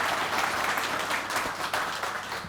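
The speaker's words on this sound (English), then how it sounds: "please give him a round of applause again" An audience at an armwrestling event claps steadily, a dense, close wash of applause lasting a couple of seconds.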